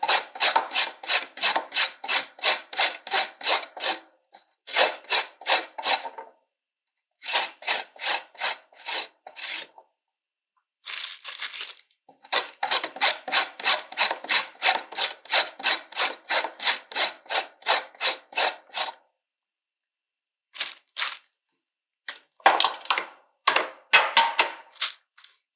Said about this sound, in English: So here's some shredded carrot now. I'm going to add that in.